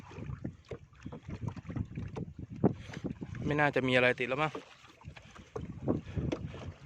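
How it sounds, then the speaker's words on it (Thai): Strong wind rushes and buffets steadily over a small fishing boat at sea, a constant broadband roar that sits under someone talking throughout. "ลมน่าจะแรงอยู่อะ"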